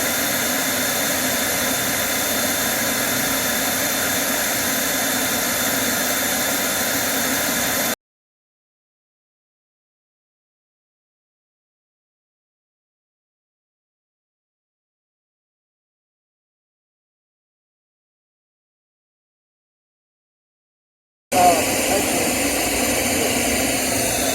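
A vacuum used to suck bees out of a tree runs as a steady, loud, broadband whooshing drone, cutting out to silence for several seconds before starting again.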